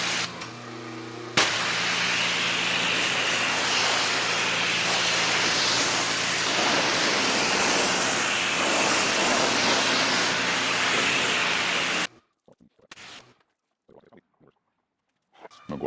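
Steady broadband spray of water rinsing a car during ceramic spray detailing, loud and continuous for about eleven seconds before cutting off, followed by a few brief quieter sprays and handling noises.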